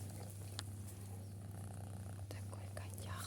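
A black cat purrs softly and steadily at close range in a quiet outdoor spot at night, with faint rustling around it.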